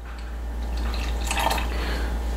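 Water poured into a pan of chicken ball sauce with a chicken stock cube, a brief splashing pour swelling in the middle over a low steady hum, no talking.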